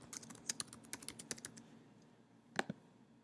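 Fingers type quickly on a computer keyboard, tapping out a short burst of crisp keystrokes, then pause before a final pair of clicks. The sound is quiet and close, and no one speaks.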